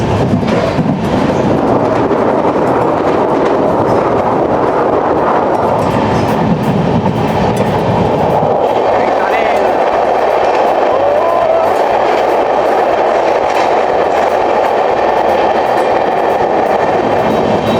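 A passenger train rolling through the Mizoram hills and onto a bridge, a loud continuous rumble and rattle heard from inside, its tone shifting midway as the wheels cross the span.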